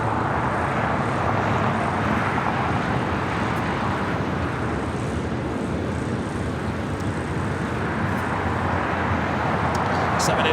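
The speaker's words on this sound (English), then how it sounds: "(787-8) Dreamliner." A Boeing 787-8 Dreamliner at LAX produces a steady, broad engine roar throughout, fairly close and constant, mixed with background airport and traffic noise and some speech.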